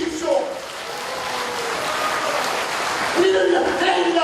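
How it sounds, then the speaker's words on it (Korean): A forum crowd at the Olympic Parktel in Korea claps in a broad, moderately loud wash that swells and holds, with voices and faint tonal sounds rising through it. "여러분 뜨거운 박수로 청해 주십시오."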